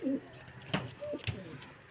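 A Madrasi pigeon pair, a hen sitting on eggs beside her male, gives a few soft low coos, close and quiet with short pauses between.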